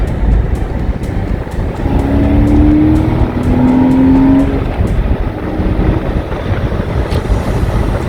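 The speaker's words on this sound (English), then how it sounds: "Hear how nice the engine sounds." Engine of a 2001 Porsche 986 Boxster Gemballa Avalanche custom on the move, a loud steady drone that climbs in pitch under acceleration, heard from inside the car with heavy wind and road rumble and no talking.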